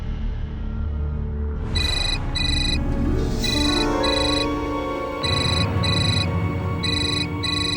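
A telephone rings loudly and close, repeating bursts of a bright electronic ringtone in a domestic Indian home setting, pausing briefly between rings with no talk over it.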